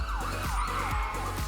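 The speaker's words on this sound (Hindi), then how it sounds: "आना ने डरकर एम्बुलेंस को बुलाया।" Ambulance siren from a toy-hospital play scene, a steady wailing tone sweeping up and down in repeated cycles over a low rumbling bed, loud and continuous with no talk.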